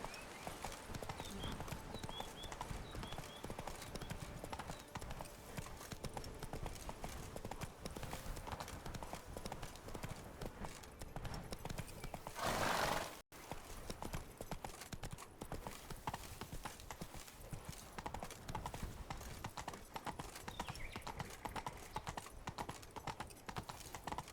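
Horse hooves clip-clop steadily and close throughout as a horse trots in The Witcher 3: Wild Hunt's Blood and Wine expansion, with game music and ambience beneath and one brief dropout near the middle.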